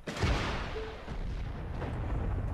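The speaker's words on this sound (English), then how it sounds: "That Faust just shot over my head." A Panzerfaust rocket launcher fires in the World War II shooter game Heroes & Generals, producing a heavy, booming blast that rolls through the whole short stretch amid dense battlefield noise.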